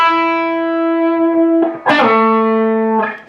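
A distorted electric guitar plays a slow lick from a rock song, with held sustaining notes, a string bend, a sharp picked attack and a wavering vibrato tail, loud and close, with no talk.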